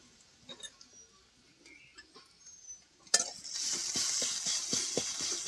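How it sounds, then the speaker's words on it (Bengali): Ginger garlic paste is added to browned onions in a pan: a few quiet scrapes and taps, then a sudden sizzle that swells into steady, close frying with stirring clicks. "আদা রসুন ভালো করে ভেজে নেব।"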